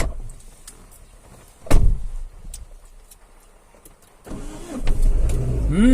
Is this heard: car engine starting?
yes